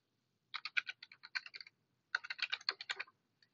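Someone types on a computer keyboard in two short, quick runs of crisp key clicks separated by a pause, quiet and close, with no talking.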